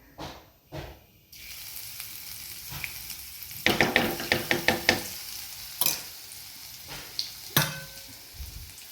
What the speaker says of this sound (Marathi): छान बारीक झालेलं आहे आपलं लसूण मिरची आणि जिरे हे आपण तेलामध्ये टाकणार आहोत